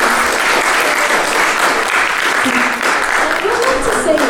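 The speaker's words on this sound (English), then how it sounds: "Give them a round of applause." Families and students applaud at an elementary school visual and performing arts awards ceremony, a full, steady roar of many hands clapping, loud and sustained, with a few voices faintly mixed in.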